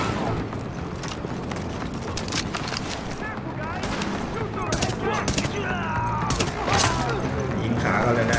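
Rapid gunfire from the shooter game Tom Clancy's The Division, with dense bursts of automatic fire and scattered single shots running throughout and a voice speaking over the shooting.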